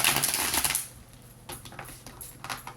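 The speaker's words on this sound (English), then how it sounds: "let's shuffle this card a bit" Tarot cards are shuffled by hand: a louder riffle of papery slaps at the start, then softer, scattered flicks and taps, close and quiet, with no talking.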